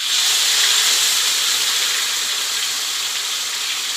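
Rendang spice paste sautéed in hot oil gives a loud, steady, close sizzling hiss that holds without a break for the whole stretch, with no voices.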